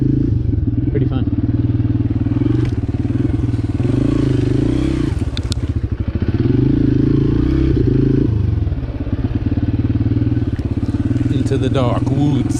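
Motorcycle riding a dark woods trail with a short hill climb and downhill, engine droning loud and steady throughout with rattling, clattering and scraping from the rough ground and brief revs, heard close from the rider's position.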